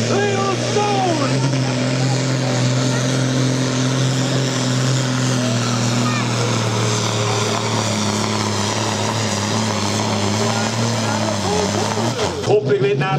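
Loud sustained drone of a diesel pulling tractor at a tractor pulling event in Oltingen as its engine builds boost, the steady roar rising slightly, with a commentator talking over it.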